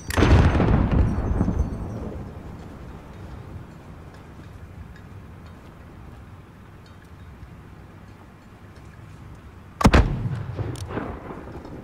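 Mortar fire in Call of Duty Modern Warfare: a heavy booming blast opens, rumbles and fades into a low ambient hum, then a second sharp, loud impact lands near the end.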